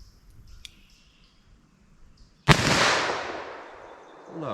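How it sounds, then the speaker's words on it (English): A single sharp .357 Magnum revolver shot fired slow at a target 40 yards away, a loud crack followed by a long echoing decay across the range, preceded by faint small clicks. "Let's see what I can do from 40 yards with these. So just gonna do some slow fire."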